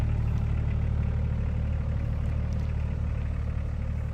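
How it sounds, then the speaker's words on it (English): Range Rover P38A idling, its exhaust in need of some repair, giving a steady low rumble that holds even and unbroken from start to finish, close by, with no talk over it. "There's your exhaust."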